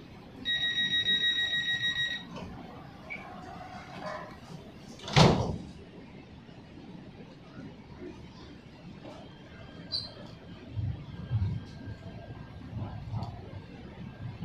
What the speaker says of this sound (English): Stand clear. The doors are closing.